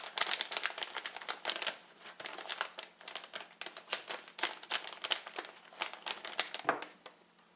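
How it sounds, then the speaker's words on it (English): A plastic bag being folded and crinkled up close, with dense irregular crackles and rustles in quick bursts and no one talking. "Try to get as much air as possible out of the bag."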